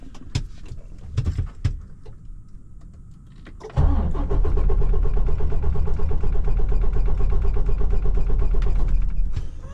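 A breaking-down truck's engine cranks and catches after a few quiet clicks, then runs loud and close in a rapid, rough, pulsing idle that continues unbroken for several seconds.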